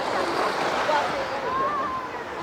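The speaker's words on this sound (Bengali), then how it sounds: "এই হলো সমুদ্র।" Sea waves wash onto Digha beach in a continuous close rush of surf, with a faint breezy hiss.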